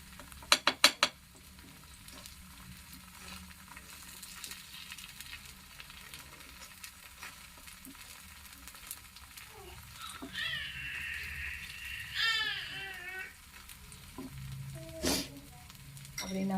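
Small wheat flour pudlas frying in a pan give a soft, continuous sizzle, fairly faint and close, broken by a few brief clinks and some faint tonal sounds.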